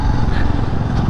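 A motorcycle rides along the winding Dive Ghat road near Pune, its engine a loud, close, rumbling drone mixed with wind buffeting that stays steady throughout.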